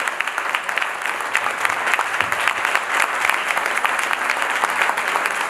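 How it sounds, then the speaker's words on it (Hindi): At a poets' honour ceremony, a large crowd keeps up continuous applause, a thick, even roar of clapping hands holding steady at moderate loudness from start to finish without speech. "आपकी तालियां कमजोर है"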